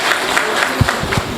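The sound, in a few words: applause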